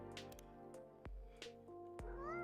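A cat in the video game Coffee Talk 2 gives several clear, close meows in quick succession, each a short tonal cry rising and falling. Background game music plays beneath it.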